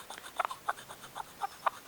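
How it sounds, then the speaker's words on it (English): A handful of short, squeaky rubbing strokes on a kendama's painted surface, close and distinct, spaced irregularly with quiet gaps between them. "And here's the sound of the paint on the Nick Gallagher"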